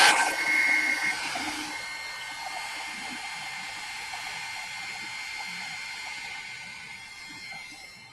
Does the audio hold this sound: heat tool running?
yes